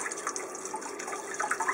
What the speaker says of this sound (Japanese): こういう風に洗い流しながら鱗を取って掃除していきますね。